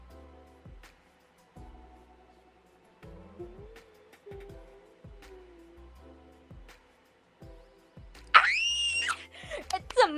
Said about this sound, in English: I'm sure I scared everyone with that scream.